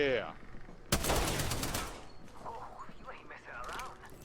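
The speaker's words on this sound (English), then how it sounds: "Oh, that's a grenade." A grenade blast in a multiplayer shooter game erupts loud and broad after about a second, its rumble decaying over the next second, with gunfire texture around it and players talking over the game sound.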